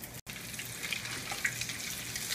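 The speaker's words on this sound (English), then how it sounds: "we're gonna brown this off like this on both sides" Eggplant slices browning in a pan for eggplant parmigiana give a steady, close frying sizzle that runs unbroken apart from a very short dropout near the start.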